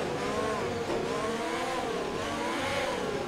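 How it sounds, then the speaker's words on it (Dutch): Formula 1 race car in the F1 2020 video game, engine revving hard and steady with shifting pitch as it accelerates, a continuous loud whine filling the whole stretch with no talk. "Wat gas geven en dan extreem hard remmen."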